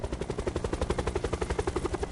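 Helicopter in the Call of Duty Blackout video game, its rotor thumping in a fast, even pulse at close range and fairly loud throughout, with no talk.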